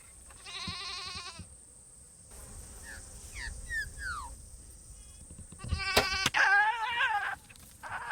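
A wild goat bleats loudly twice during a goat hunt in New Zealand, a quavering cry near the start and another near the end, over chirping insects and birdsong.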